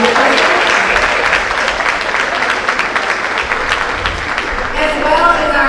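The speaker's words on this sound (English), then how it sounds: "can we get a round of applause for our panelists for their discussion" A crowd at a city district candidate forum claps loudly and steadily for the panelists. The applause is dense and continuous throughout, with a few faint voices mixed in near the end.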